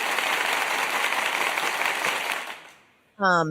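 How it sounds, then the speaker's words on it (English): Audience applause for a guest on a talk show, a steady dense wash of clapping that fades out around two and a half seconds, after which a voice begins speaking. "Let me give him an applause"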